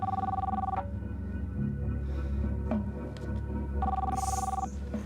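A telephone rings in a soap opera scene, two loud electronic trills with a pause between them, over a steady low hum and background noise.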